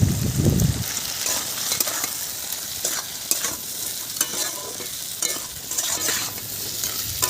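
Crab stirred in hot oil with turmeric, chilli powder and salt, giving a continuous close sizzle broken by repeated scraping and clattering strokes of a spoon against the pan.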